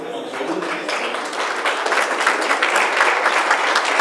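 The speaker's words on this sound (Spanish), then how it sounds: "Y cerramos la actividad con un aplauso para las ideas de la libertad" Warm applause from the audience closing a panel event on elections in Argentina, a full, continuous round of clapping that builds slightly and holds steady throughout.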